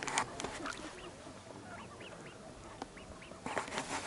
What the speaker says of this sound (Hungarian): Na, jönnek a kacsák is.